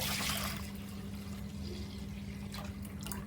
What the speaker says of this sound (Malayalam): മൺചട്ടിയിലേക്ക് ഞാനിത് ഒഴിച്ച് കൊടുക്കുകയാണ് കേട്ടോ